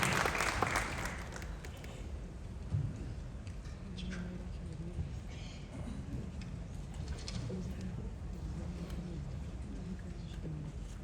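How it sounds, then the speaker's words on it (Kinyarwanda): An audience at a memorial ceremony for General Rukunda Michael Makanika in Dayton, Ohio applauds a speaker, a steady wash of clapping that starts loudest and continues evenly for several seconds. "Mukomere amashyi uyu mugabo."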